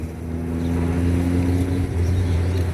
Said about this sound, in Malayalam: ബോട്ട് യാത്രയാണ്.